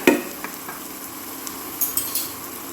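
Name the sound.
onion and turmeric frying and being stirred in oil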